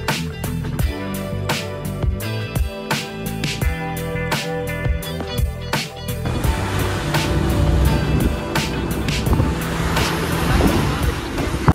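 Aboard the free ferry toward the Statue of Liberty in New York, a low steady engine rumble and water rush run throughout, with rhythmic clanks early on and a broader wash of wind and spray later.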